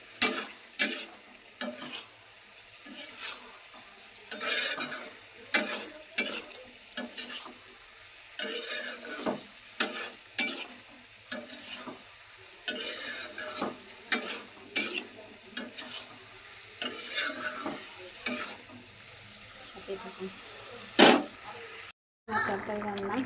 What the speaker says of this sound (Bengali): পটল আলু মাছ দিয়ে ঝোল ঝোল করে রান্না করা হচ্ছে